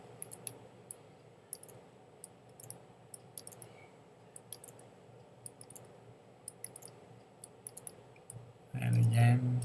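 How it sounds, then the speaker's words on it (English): Soft, sparse mouse clicks from retouching with the Photoshop healing brush tool, scattered irregularly through quiet room tone, ending in a brief louder burst of noise. "Alt click, sample,"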